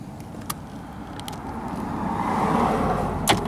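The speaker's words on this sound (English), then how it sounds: "Sorry about the car going by, just ruining the shot here." A car drives past close by, its rumbling road noise swelling to a peak and then easing, with a couple of sharp clicks on top.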